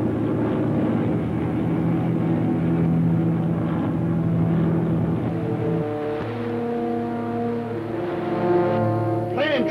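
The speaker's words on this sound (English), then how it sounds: "Atoll Airways flying boat. 9 aboard. 1 engine out, 2nd one acting up." Radio-drama flying boat of Atoll Airways in trouble, one engine out and a second faltering: a steady low engine drone with shifting, wavering tones throughout, fairly loud and continuous.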